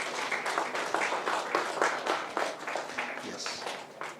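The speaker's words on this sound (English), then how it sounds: "Let's have a round of applause," Seminar attendees at a one-day tax audit event give a round of applause after a memento is presented to the speaker, a moderately loud, uneven patter of many hands with some scattered voices underneath.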